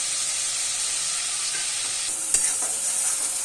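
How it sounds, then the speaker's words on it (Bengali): Onion, chilli, ginger and garlic paste frying in hot oil, giving a steady close sizzling hiss with a faint stirring scrape or two and no talking. "ভালো করে ভেজে নেব এটাকে"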